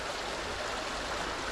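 A river flowing under footbridges along the Camel Trail in Cornwall gives a steady, even rush of water, continuous and moderately close, with no other sounds.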